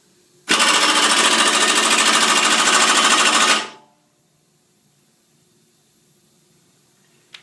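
An FP-745TCI torque controlled impact wrench hammers in one loud, rapid rattling burst of about three seconds, then stops abruptly, leaving near silence.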